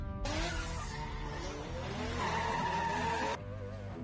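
A drift car at a Philippine Drift Series round sliding into a tight first corner under left-foot braking, tires squealing continuously for about three seconds over a loud engine roar, close by.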